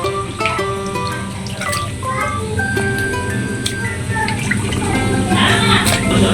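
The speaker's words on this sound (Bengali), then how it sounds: "পরে এরকম আমি আরো কয়েকবার ভালো করে ধুয়ে নেব" Raw chicken pieces are rinsed under a running kitchen tap, with steady splashing water, small knocks and clinks, and scattered tonal background sounds throughout.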